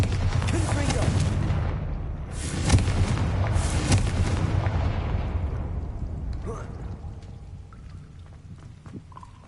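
Spell explosions from Bombarda and Confringo boom in the video game Hogwarts Legacy, a couple of loud bursts over dense rumbling noise that slowly fades to quiet.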